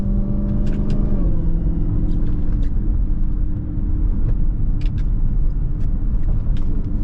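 Dodge Hellcat Charger engine pulling hard on a morning drive, a loud, continuous deep rumble with a rising rev near the start, heard close from inside the car.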